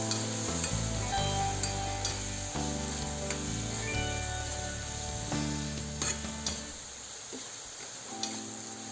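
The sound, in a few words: spices frying and being stirred in a pan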